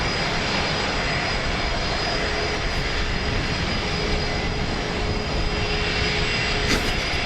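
A Qantas Airbus A330 jet takes off from runway 01 right at Brisbane Airport, giving a steady, loud engine roar that holds evenly throughout with no talk over it.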